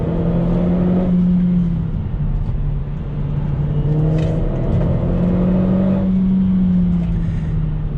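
A Renault Clio 4 RS18 with an Akrapovic exhaust drones loudly and steadily under acceleration. The engine note rises, settles and climbs again through the gears with a strong, close exhaust rumble and no speech.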